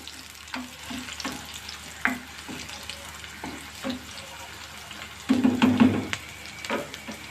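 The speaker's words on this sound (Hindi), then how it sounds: "लाल मिर्चें डाल दूँगी ताकि ये भी हमारी फ्राई हो जाए" Red chillies and chopped onions frying in hot oil for a tempering, a steady sizzle with scattered stirring clinks and a louder burst of crackle near the end.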